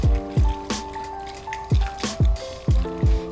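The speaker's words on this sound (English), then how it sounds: "So now I'm going to do the same thing and take it by sections and start rinsing." Water rinses shampoo from hair extensions, producing a series of close, irregular splashes, drips and wet squishes with short pauses between them.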